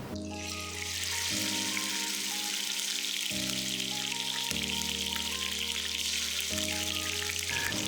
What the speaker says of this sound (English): Fry the fish.